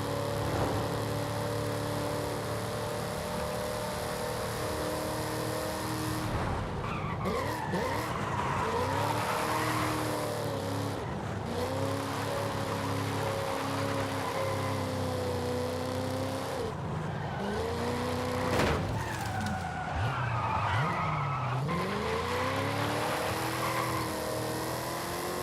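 A 1987 V8 Mustang roars steadily in Forza Horizon 5, its engine note rising and falling through shifts while tires squeal and skid repeatedly through drifts, loud and continuous without talk.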